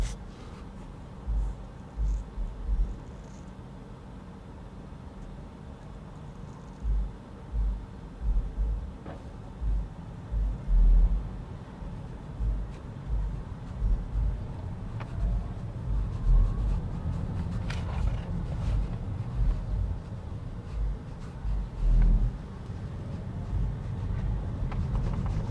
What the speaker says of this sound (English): There's somebody around us with some nice subwoofers in their car.